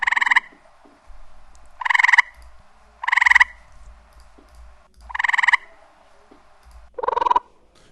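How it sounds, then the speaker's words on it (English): A frog croaks loudly in five separate bursts, each a harsh rattling call spaced about a second apart, close up with quiet gaps between. "I got this tree frog right here, check it out"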